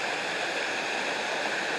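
Steady broadband rush of a waterfall tumbling down a hillside in Portland, Jamaica, close and constant with no pauses.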